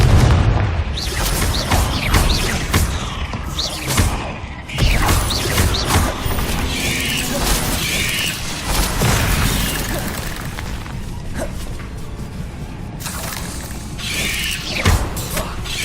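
Repeated Confringo fire-spell blasts against spiders in Hogwarts Legacy, a dense run of loud booming explosions and crashing impacts with game effects layered continuously throughout.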